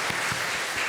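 A church congregation claps for the choir during a Sunday worship service, a loud, dense burst of applause filling the space.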